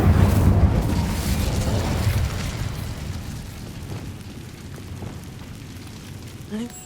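A fire spell cast in the Hogwarts Legacy video game gives a loud roaring whoosh and crackling burst at the start that fades into a long rumbling, rain-like wash of noise.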